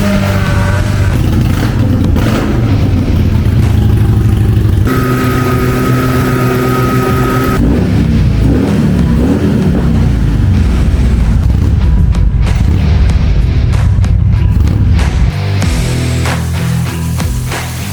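A 2012 Harley-Davidson Ultra Classic with a 103 twin cam engine starts up and runs, a loud, close, rumbling exhaust with shifting tones and revs, continuing for the whole stretch without voices.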